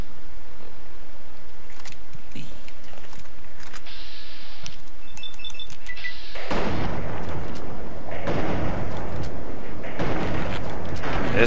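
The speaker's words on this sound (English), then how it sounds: "Uh-oh, that's a shotgun." Shotgun fire in Fallout 3 booms in loud broadband blasts, first a few sharp shots over a quieter stretch, then a dense run of heavy bursts in the second half.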